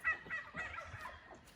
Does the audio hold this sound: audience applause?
no